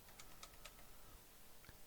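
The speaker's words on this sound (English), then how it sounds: "I'm pushing every key on the keyboard here." Keys on a ZX Spectrum computer keyboard pressed in quick scattered taps, faint and close, with a low background hum and no voices.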